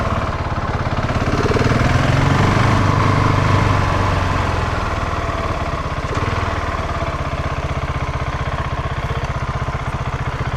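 Husqvarna 701 single-cylinder motorcycle engine on a sunny solo ride, a steady, close, buzzing drone with a brief rise in revs early on, continuous with wind noise and no speech.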